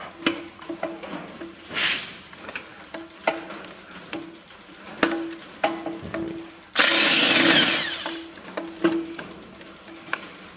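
A pneumatic nut gun works on the rear differential housing of a Massey Ferguson 135 six-speed tractor during restoration, giving short rattling bursts and one loud sustained run near the microphone.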